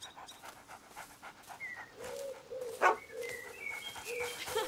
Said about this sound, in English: Look at the doggy.